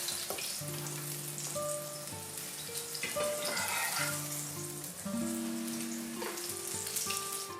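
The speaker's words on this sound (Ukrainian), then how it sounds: "Поки в мене смажаться інші підпалки" Steady crackling sizzle of potato pancakes frying in a pan, continuous and close, with a faint tonal hum running underneath.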